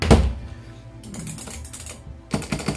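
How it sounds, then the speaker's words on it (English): Clicky arcade buttons fitted with micro switches are pressed on a home-built arcade machine, giving several crisp, close taps in a quick, uneven run with a louder burst at the start and again near the end. "They have micro switches as well, as you can see. So they are quite clicky and they are responsive."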